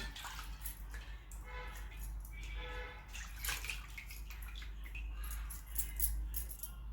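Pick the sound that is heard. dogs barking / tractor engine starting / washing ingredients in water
washing ingredients in water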